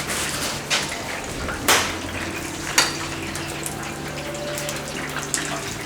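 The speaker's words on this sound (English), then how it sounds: "So they're all in the fryer now." Battered fish frying in oil in a commercial fryer, giving a steady broadband crackle and hiss with a few louder pops and bubbling bursts, close by and continuous, with no talking.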